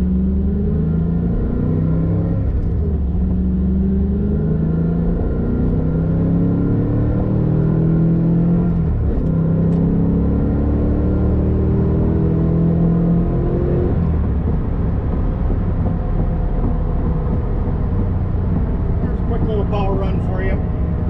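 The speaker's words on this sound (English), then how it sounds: "I'll run this through the gears for you" A 1993 Corvette ZR1 40th Anniversary edition runs through the gears, its engine note climbing in rising sweeps with drops at each shift. The engine is loud and close, with a steady road rumble and a voice talking over it.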